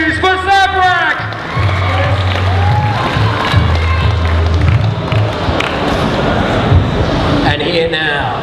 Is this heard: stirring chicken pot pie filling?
no